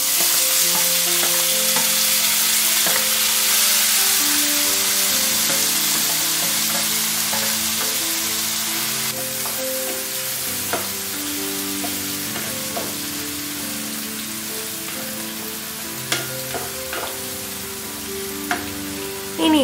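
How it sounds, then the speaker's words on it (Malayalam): Chopped ginger, green chili, tomato, onion and curry leaves sizzle steadily in a hot pan while being sautéed and stirred, with the spoon scraping and clinking now and then, close and continuous without any talking. "ഇനി ഇത് നമുക്ക് നന്നായിട്ട് വഴറ്റിയെടുക്കാം."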